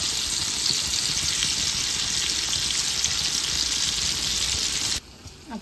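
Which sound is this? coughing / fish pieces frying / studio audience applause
fish pieces frying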